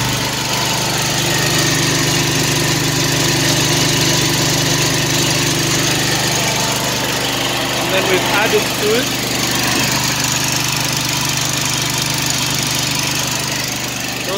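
An 8 kVA twin-piston petrol engine converted to run on biogas drives a generator in a generator house, holding a constant low droning idle-like hum while someone speaks briefly over it.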